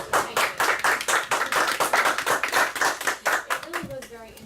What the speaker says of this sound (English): we all are going to stand up and give you a round of applause